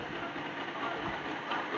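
A Bajaj Pulsar 220cc motorcycle engine runs with a steady, dense mechanical roar that holds at an even level throughout, close and loud.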